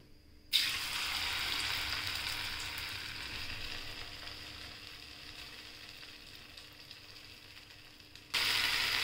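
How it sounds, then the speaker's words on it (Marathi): Masala-coated paneer sizzles loudly in a pan with a steady, close hiss. It starts abruptly, eases slightly over several seconds, then surges louder again near the end. "सर्व साईडनी मसाला लावून पनीरला आपण ते तळायला टाकूया।"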